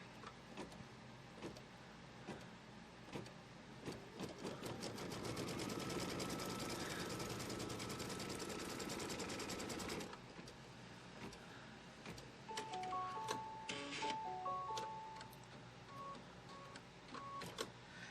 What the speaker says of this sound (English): we're going to stitch the next line, which is going to be the placement line for the fabric